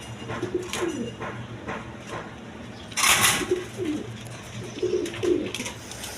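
Satin pigeons coo in soft, repeated low bursts close by, with a brief louder rustle or flutter near the middle and no voices.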